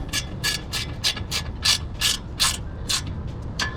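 A hand ratchet tightens a Flashark Racing Y-pipe exhaust on a Nissan 350z, making about a dozen sharp, close clicks in a steady, quick rhythm, with no talk.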